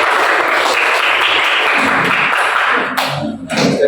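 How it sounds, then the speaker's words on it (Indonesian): Steady, close applause from a classroom fills most of the clip, then breaks up into a few scattered claps at the end. "Kita berikan aplaus untuk kita semua."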